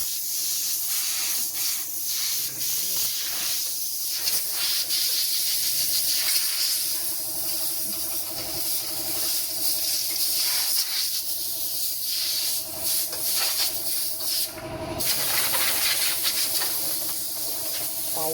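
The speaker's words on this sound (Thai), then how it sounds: "จัดการเป่าโอ้โหฝุ่นออกมาอย่างเยอะเลยนะครับ" Compressed air blasting dust out of the air-conditioning system of an Isuzu D-Max pickup truck, a loud continuous hiss with short bursts and pauses over about eighteen seconds, close to the microphone.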